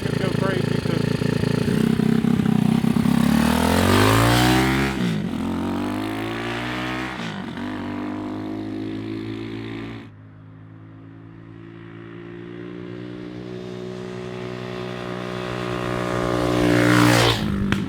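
A Honda Trail 70 minibike fitted with a 125cc four-speed engine rides down a road. The engine drones loudly and steadily throughout, its pitch climbing and dropping as it revs and shifts through the gears.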